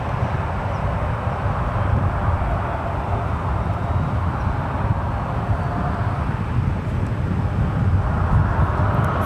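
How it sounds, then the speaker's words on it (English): Alaska Airlines Boeing 737 MAX 9, two years old and arriving from Portland, lands at San Francisco International; a steady, broad jet roar holds at a moderate distance throughout, with no voices. "We have an Alaska on final, and then a Southwest Special right behind them."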